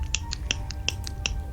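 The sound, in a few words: Zippo lighter being flicked open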